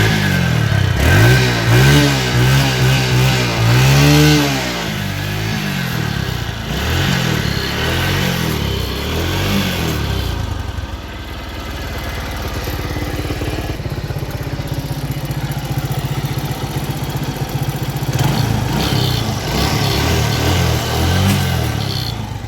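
A TVS Metro Plus 2022 motorcycle engine runs in neutral, recorded close and loud, with a few throttle blips at first before it settles into a steady, even idle.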